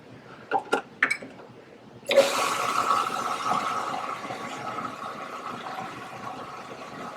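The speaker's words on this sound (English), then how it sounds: "this would be a good time to add our water" Water pours steadily into hummus in a mixing bowl, a continuous close rushing wash that begins abruptly after a few soft knocks and runs on without talk.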